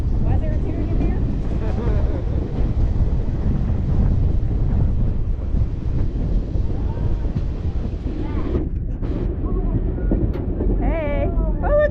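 Steady, loud rumble of a train rolling past close by, with wind buffeting the microphone and voices talking over it.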